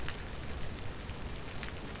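Steady rain falls in the video game Vintage Story, a dense, even hiss of drops with a low rumble underneath that holds constant for two seconds with no voices.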